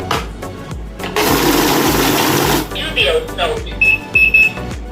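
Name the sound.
note counting machine beeping alarm on detecting fake note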